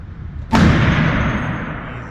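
One .50 BMG rifle shot cracks loudly at an indoor shooting range. It hits sharply out of a low background hum, then a long echoing boom slowly decays in the enclosed space.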